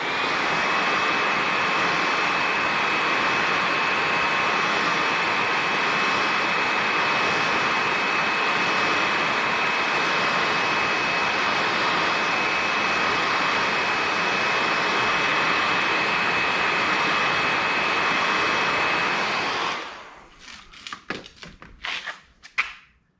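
A heat gun blows hot air onto the adhesive of a carbon spoiler being fitted to a 2018 BMW M5. It gives a loud, steady whooshing roar with a high whine for about twenty seconds, then cuts off, followed by a few scattered taps and clicks.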